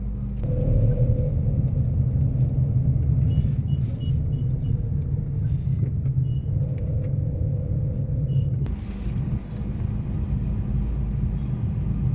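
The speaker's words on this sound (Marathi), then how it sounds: "भरपूर ट्रॅफिक आहे माणगावला" Road traffic at Mangaon on the Mumbai–Goa highway: a steady, loud low rumble of idling and slowly moving vehicles fills the scene throughout, with a faint higher hum drifting in and out.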